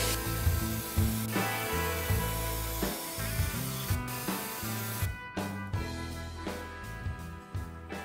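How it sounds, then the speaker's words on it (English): A steady hiss of spray paint from an aerosol can coating wicker patio furniture, with repeated knocks and rubbing of the can against wood throughout. "sharply angle the spray pattern to help coat the widely spaced wicker with less overspray"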